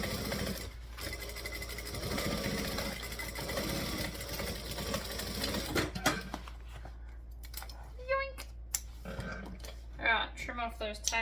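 A home sewing machine stitching a seam runs with a steady mechanical whirr for about six seconds, then stops, leaving fabric handling and someone speaking close by.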